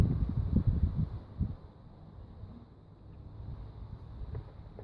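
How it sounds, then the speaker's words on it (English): Outdoor wind buffeting a phone-reviewer's microphone in low, uneven rumbling gusts, stronger at first and then easing to a softer steady rush, with no talking. "Sorry about the wind."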